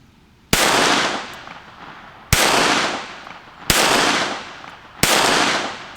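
Four sharp gunshots from a KelTec P17 .22LR pistol, evenly spaced about a second and a half apart, each a loud crack followed by a long ringing outdoor decay, with no talking.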